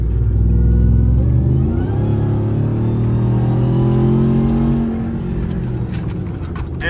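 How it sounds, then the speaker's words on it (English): Ram TRX pickup's supercharged Hellcat V8 revving loud and close, a steady rising whine riding over a deep engine rumble that eases off near the end. "I love that Hellcat whine, man."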